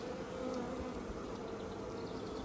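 Honeybees gathered around a newly emerged queen buzz in a steady, dense hum, close and continuous throughout with no voices.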